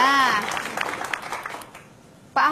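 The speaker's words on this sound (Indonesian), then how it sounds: "Boleh tepuk tangannya." Studio audience at a televised debate between Ahok and Anies, a short burst of applause that fades out over about two seconds, followed by a voice cutting in at the end.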